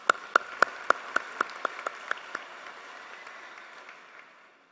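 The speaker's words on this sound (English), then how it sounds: "We'll clap for them anyway." Evening ceremony audience claps as a short burst of about ten sharp, evenly spaced handclaps, then the sound thins into a fading patter of scattered claps.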